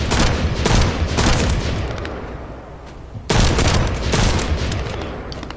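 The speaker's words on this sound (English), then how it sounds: "This sniper rifle's kind of cool" Sniper rifle fire in The First Descendant video game: loud, sharp blasts with noisy decays, one volley early and another sharp crack midway, each trailing off into rumbling echo.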